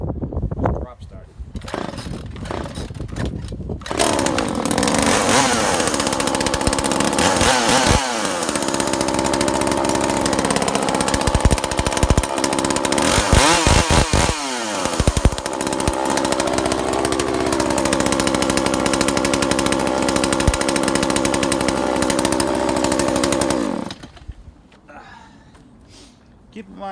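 Husqvarna or Stihl chainsaw, started cold with a drop start, fires up after a few short pulls and then runs with a loud, continuous two-stroke roar close by for about twenty seconds before cutting off.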